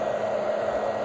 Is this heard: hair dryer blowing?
yes